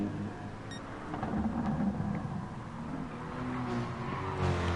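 Race cars on the Sardegna circuit in Gran Turismo Sport, including a Corvette and a Mercedes, keep up a steady engine drone with layered tonal whine and slight tyre noise, holding at a fairly constant level throughout.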